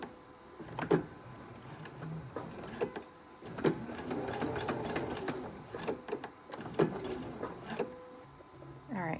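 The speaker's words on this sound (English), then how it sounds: "I'm actually going to sew the ribbon in place" A sewing machine stitches ribbon onto a strap in two long, steady runs of rapid mechanical chatter, separated and followed by short pauses with a few clicks and handling noises.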